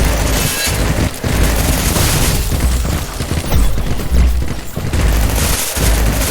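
A red explosive object blowing up in the video game Banhammer Boiling Steel, amid dense, loud booming and rapid gunfire that fills the whole stretch with heavy rumbling blasts.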